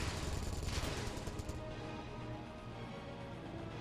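Rapid turret gunfire in the Space Engineers video game, a dense, fairly faint rattle of shots that runs on steadily with a rumbling background and no talking.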